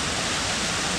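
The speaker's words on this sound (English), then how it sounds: "waterfall." Waterfall pouring beside a river in the Ansel Adams Wilderness, a steady, dense broadband roar of rushing water filling the whole second with no breaks or voices.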